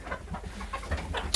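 A flock of about 75 chickens in a coop clucks steadily at close range, with overlapping calls and no voices.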